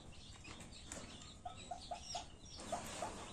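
A hen clucks softly a few times in a short rhythmic series, faint and somewhat distant, with no voices.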